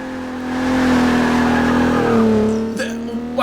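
A race car in the Forza 6 video game brakes lightly through S-bends, its engine note dropping then rising again with tyre squeal, loud and close, while someone talks over it.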